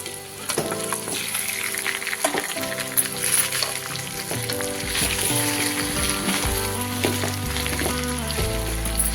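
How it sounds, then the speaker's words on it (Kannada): Crumbled colocasia leaf pathrode is fried with onions in oil, giving a steady sizzle and crackle for the whole stretch, with no talking. "ಇದೊಂದು 2 ನಿಮಿಷ ಫ್ರೈ ಮಾಡ್ಕೊಳ್ಳೋಣ"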